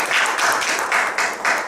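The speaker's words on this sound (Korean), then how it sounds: "박수 한번 주시죠" An audience at a teaching-methods workshop claps together in short rhythmic surges, the claps swelling and easing about every half second in a close, fairly loud pulse.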